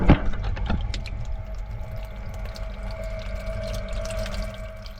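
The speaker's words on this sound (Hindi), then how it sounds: "पाइप में से पानी आ रहा है" Water runs steadily from a tank overflow pipe inside a boat's hull, a continuous trickling splash with a steady hum beneath it in an enclosed space.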